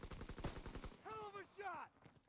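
Rapid gunfire bursts from the Call of Duty WW2 video game crack in quick succession, followed by a couple of short voiced sounds from the game, all fairly faint.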